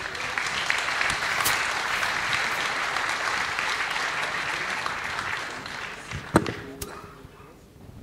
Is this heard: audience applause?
yes